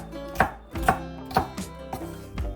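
A knife chops tomatoes and chiles on a board in sharp, evenly spaced strikes, about six close cuts over a couple of seconds, with a soft tonal hum in the background.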